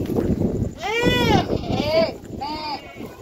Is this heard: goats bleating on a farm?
yes